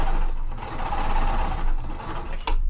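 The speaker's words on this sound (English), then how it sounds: "sewing at my 1/4 inch" A sewing machine runs steadily through a full quarter-inch quilt seam, a continuous close mechanical whir with a brief change near the end, no talking.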